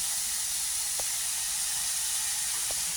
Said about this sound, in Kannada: ಸ್ವಲ್ಪ ಡ್ರೈ ಆಗತ್ತನ ಫ್ರೈ ಮಾಡ್ಕೋಬೇಕ್ರಿ